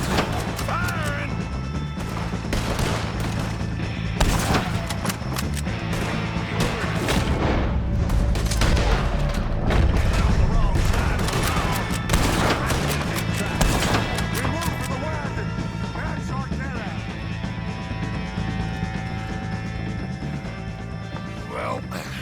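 Gunfire in Red Dead Redemption 2 on PS5: a dense, loud run of gunshots, crashes and thuds fills the whole stretch, layered over game music and ambience, with voices talking through it.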